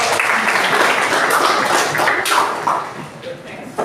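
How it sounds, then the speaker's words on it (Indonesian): A class of high-school students claps together in a classroom, a loud burst of mixed, uneven clapping that tapers off near the end. Voices talk over it and there are a few thumps and shuffles. "kasih tepuk tangan dulu"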